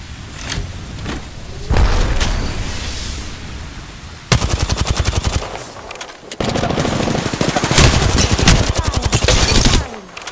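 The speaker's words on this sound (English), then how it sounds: "Listen up, I'm getting shot at." Bursts of rapid automatic gunfire from an Apex Legends firefight, loud and close, with long rattling volleys broken by short pauses and a few heavier booms.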